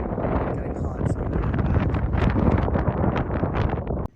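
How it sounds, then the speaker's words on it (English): Strong wind gusting across open high ground in West Texas, buffeting the microphone with loud, uneven low rumbles and rustling that swell and ease for several seconds before cutting off abruptly. "Very windy up here now."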